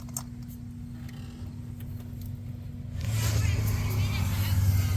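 A Nissan SR20DET engine with a misfire and a gasoline leak cranks partway through, bringing in a loud, low mechanical churn that replaces a quiet hum and continues to the end while people talk nearby.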